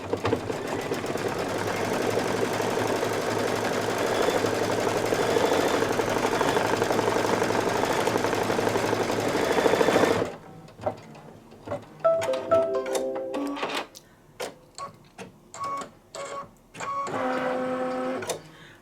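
Embroidery machine stitching through two folded fabric layers, a dense continuous mechanical rattle for about ten seconds, then breaking into short irregular bursts and pauses with a final sustained run.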